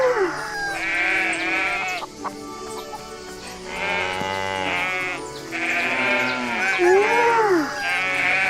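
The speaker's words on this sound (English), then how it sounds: "you find yourself in possession of 40 chickens and a ridiculous number of sheep, and my goodness, that farm does get quite noisy" Sheep bleat loudly and repeatedly in the farm of the cosy game Everdream Valley, where a flock of sheep and forty chickens are kept. The calls overlap continuously with wavering tones, close and busy, and no talking is heard.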